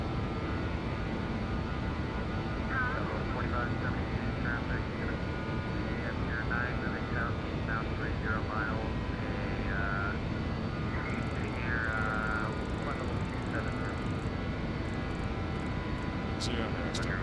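BAe146 jet engines in X-Plane 12 spool up to a steady airliner roar, a constant broad rumble with a whine on top, while a voice talks over it at intervals.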